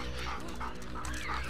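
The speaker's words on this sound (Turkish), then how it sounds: "Köpeğime bak be." A dog in the video game The Last of Us Part II gives a brief whimpering, panting sound that is muffled and partly buried in dense game background noise.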